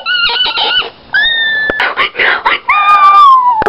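A person imitates a chimpanzee with loud, shrill screams and hoots in rapid bursts, their voice rising and wavering, close up and alone.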